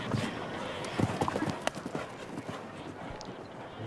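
Show jumping horse on the course at Spruce Meadows: brisk, rhythmic hoofbeats thud across the arena in quick clusters, moderately close, over a steady background hum.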